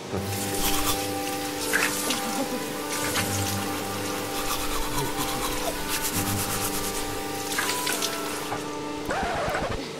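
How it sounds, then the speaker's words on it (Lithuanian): Milled wooden furniture pieces such as drawers are sanded and polished by machine, a steady rough rubbing drone with periodic scraping surges and a constant mechanical hum underneath, fairly close and continuous. "Ir dabar Marius viską ims ir šlifuos, ne? Poliruos."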